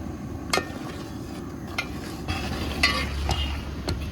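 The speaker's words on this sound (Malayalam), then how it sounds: "ശർക്കര നല്ല തിളച്ചിട്ടുണ്ട് ഇതിൻ്റെ അകത്തോട്ട് നമ്മൾ അരമുറി തേങ്ങ ചിരണ്ടിയത് ഇട്ട് കൊടുക്കും" Steady scraping and stirring in a pan as grated coconut is mixed into boiling jaggery, over a low bubbling simmer, with a few sharp clinks of a utensil against the vessel; no voices.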